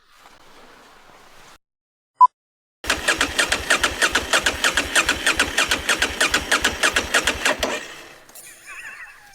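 A Honda Africa Twin motorcycle engine cranks and restarts after a brief blip, then runs with a steady rapid pulsing thump for about five seconds before cutting off into quiet.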